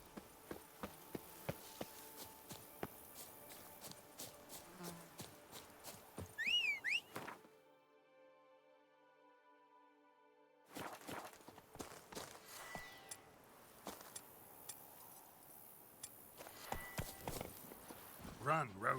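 Galloping hoofbeats of Roach, the horse in The Witcher 3: Wild Hunt Blood and Wine, clatter in a steady rhythm alongside game sounds, drop out for a few seconds of near silence, then resume.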